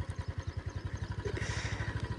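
A motorcycle engine idles close by with a steady rapid thump, while some clattering and faint background sounds pass over it.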